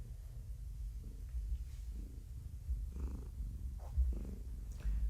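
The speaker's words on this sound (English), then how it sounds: "She starts purring." A pregnant female cat purrs while being massaged, a close, low, continuous rumbling purr with a steady pulsing rhythm and no talk over it.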